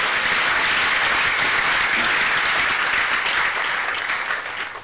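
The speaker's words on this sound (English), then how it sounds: "can you please give them a round of applause?" Sustained applause from a crowd at a priestly ordination ceremony, loud and dense throughout, tapering off toward the end.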